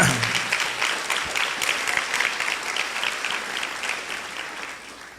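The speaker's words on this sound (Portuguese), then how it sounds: "Quem pode aplaudir ao Senhor por isso" Congregation applauding during a church sermon, a sustained wash of clapping with individual claps audible, fairly loud at first and easing slightly toward the end.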